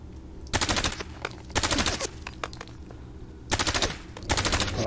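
Gunfire in the video game Fallout 4: several bursts of rapid automatic fire, loud and close, separated by short pauses with scattered single shots, no talk.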